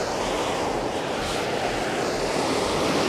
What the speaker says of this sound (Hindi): इसकी आवाज़ सुनाई दे रही होगी आपको, इतना तेज़ गर्म पानी इसके अंदर से निकल रहा है